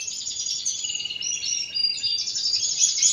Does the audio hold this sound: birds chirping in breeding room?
yes